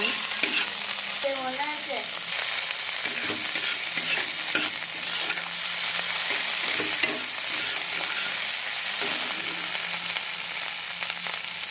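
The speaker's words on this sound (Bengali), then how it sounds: "মশলাটা একটু ভালো করে কষিয়ে নেব" Spice paste sautéed in a pan for a rohu fish curry with char magaj, giving a continuous sizzle with repeated scraping strokes of a spatula, close and steady throughout.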